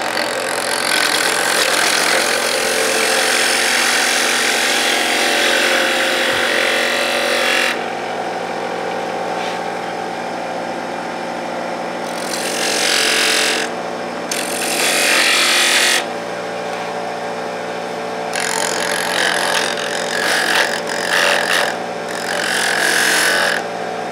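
A power sander works a small wooden birdhouse ornament with 100 grit paper: loud, rough whirring in bursts that start and stop over a constant motor hum, close by with no talk.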